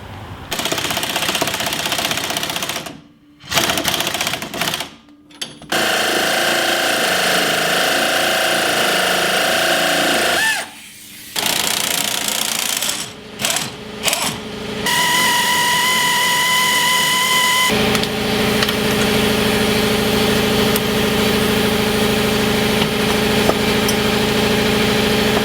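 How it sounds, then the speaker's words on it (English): A power tool works on a bolt of the coil spring on a Jeep ZJ in a home garage, running in loud sustained bursts with short pauses, then a steadier whine-like tone. "hopefully I can use the impact wrench on this side"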